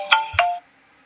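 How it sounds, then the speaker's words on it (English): A mobile phone ringtone plays two quick bright electronic chime notes, close and fairly loud, then cuts off into near silence. "That was my phone, sorry."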